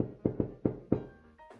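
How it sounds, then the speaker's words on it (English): Four hollow knocks on a wooden door in a quick, slightly uneven rhythm, close and fairly loud, followed by a short faint squeak. "Mr. Happy knocked at the door."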